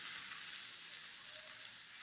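Thalipeeth flatbread, made with bottle gourd, sizzles steadily on a hot tawa over a medium flame, an even, soft hiss with no voices.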